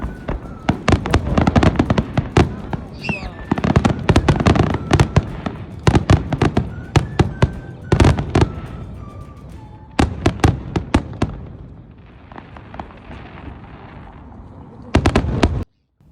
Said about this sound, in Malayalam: നല്ല അടിപൊളി ഒരു ഫയർ വർക്ക് ഉണ്ട്